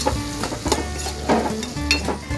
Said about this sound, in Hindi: टमाटो, प्याज, और ये सारी वेजिटेबल्स को अच्छी तरह से फ्राई करना है हमें।